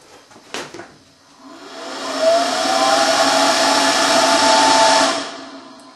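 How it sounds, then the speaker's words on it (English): A 4-inch fan inside a propane potato launcher's combustion chamber spins up with a rising whir, running steady and fairly loud for a few seconds before cutting off, with a brief click at the start. "you can see it powers up the 4-inch fan"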